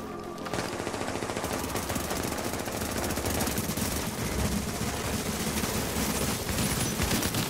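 Mounted turret gunfire rattles in Tom Clancy's The Division, a dense, sustained automatic burst that runs loud and nearly unbroken after a short lead-in, with no one talking.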